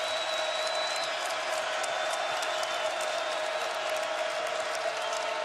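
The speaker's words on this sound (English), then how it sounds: "And the crowd here on its feet." A basketball crowd at a Kentucky NCAA game on its feet, a dense continuous roar of cheering and applause filling the arena with a steady, loud wash.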